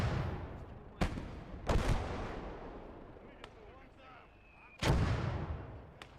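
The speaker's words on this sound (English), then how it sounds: "As long as there is enemy mortar, we have to be careful." Enemy mortar shells land in a Battle of Stalingrad video game: sharp, heavy blasts strike at irregular intervals, three of them loud, over a continuous rumbling battlefield backdrop with a faint whistle in between.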